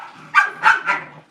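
A pet Corgi gives three short, sharp barks close by, evenly spaced in quick succession, with nobody talking over them.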